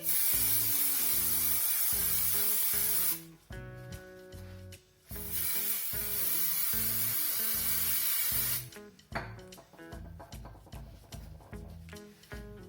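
Two long bursts of spray adhesive hiss, each a few seconds, with quieter pauses between and after. Faint tapping and handling noises run beneath.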